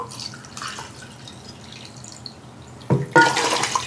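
Cups of moonshine poured into a lemon lime cream mix, a soft liquid trickle near the start and a louder splashing pour at the end, with quiet handling noise between.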